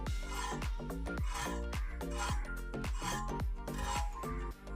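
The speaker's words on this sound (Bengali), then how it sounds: "এইভাবে চিচিঙ্গে ছাড়িয়ে নিলে খোসাটা পুরো উঠে যায়, বটিতে ঘষে ঘষে।" Repeated rasping strokes of a snake gourd's skin being scraped off against a bonti blade in a village kitchen, steady rhythmic scrapes close by, with a continuous tonal background.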